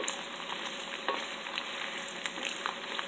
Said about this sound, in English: Just continuing mix this so it's not gonna burn the garlic.